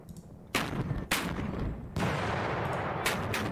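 Mortar fire from two tubes sounds in the North Africa 1941 wargame Panzer Battles, with several heavy booming blasts landing in quick succession, each followed by a long rumbling roar that keeps building and stays loud.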